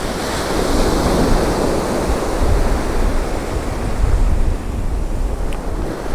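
Ocean surf rolls steadily onto a sunny UK East Coast beach as the tide comes in fast, a continuous near wash of breaking waves mixed with gusty wind buffeting the microphone, with no voices.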